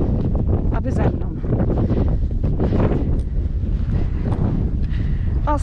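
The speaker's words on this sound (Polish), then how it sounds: "Ostro wieje dzisiaj, niestety." Strong wind on an exposed mountain hiking trail roars and buffets against the microphone as a constant, loud, rumbling gusty wash lasting the whole stretch.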